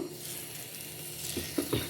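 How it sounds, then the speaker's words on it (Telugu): Mustard-seed tempering spices crackle and sizzle in hot oil, a bright continuous hiss with a few sharper pops and a light scrape toward the end. "ఇప్పుడు తాలింపు వేసేసి చూపిస్తాను మీకు"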